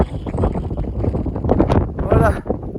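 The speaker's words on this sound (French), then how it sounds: "il fait un vent, c'est dingue" Strong wind buffets the microphone outdoors on the Camino de Compostela, roaring in gusts beneath a voice speaking French close by.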